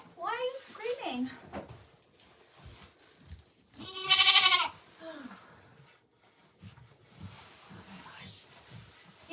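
A goat named Vixie lets out a loud, wavering bleat in a barn, set among a person's talking and quieter bleats.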